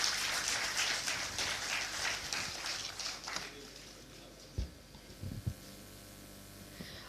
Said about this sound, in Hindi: तालियां थमनी नहीं चाहिए।